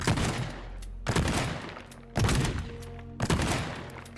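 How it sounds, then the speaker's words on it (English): Shotgun blasts tearing through a wall in the voxel video game Teardown, with four loud booming shots at roughly one-second intervals, each followed by a crumbling, rattling decay. "But we can with a good old shotgun."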